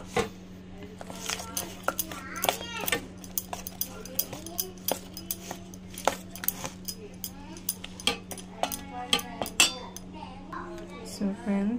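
Chocolate cake batter stirred in a bowl, with steady clinks and taps of a utensil against the bowl repeating throughout, fairly close, over a low constant hum.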